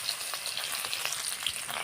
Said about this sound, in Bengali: এবার পেঁয়াজ কিছু দিয়ে দিচ্ছি